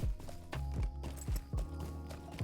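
Horse hooves clip-clop in a steady rhythm while riding in The Lord of the Rings Online, each hoof fall a fairly loud, close thump over a continuous droning music bed.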